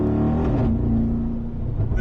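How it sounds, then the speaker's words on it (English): A Mercedes-AMG G63 twin-turbo engine drones steadily and loud through a gear shift, its tone sliding as the revs change, with no talk over it. "Noise it makes on shifting."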